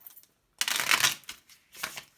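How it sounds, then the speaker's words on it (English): Tarot cards are shuffled in a close, quiet setting: a sustained riffling burst of papery flutter followed by a shorter second riffle. "One last shuffle."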